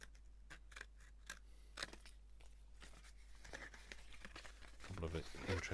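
Scissors snip through a cardboard playing card box, giving a few short crisp cuts and crinkles close by, with a voice talking over them.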